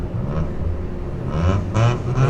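An Acura Integra drives past outdoors, its engine rising in a moderate whirring rumble with a couple of louder swells as it approaches and moves by.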